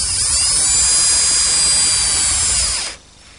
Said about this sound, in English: I secure everything with 1 5/8" screws